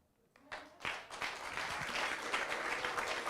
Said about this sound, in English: We can give him a good clap.